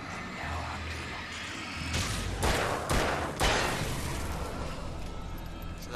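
Gunshots from the video game Alan Wake, three sharp close blasts in quick succession over a low game ambience, each a loud broadband crack with a brief tail.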